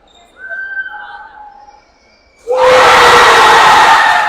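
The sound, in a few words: basketball crowd cheering at girls' game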